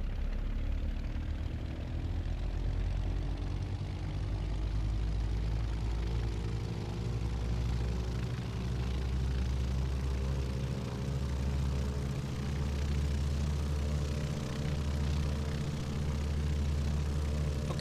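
Aircraft engine at taxi power on a flight from Mumbai to Bhavnagar, a steady distant droning hum with slowly rising tones and a faint low rhythmic pulsing, heard from inside the cabin.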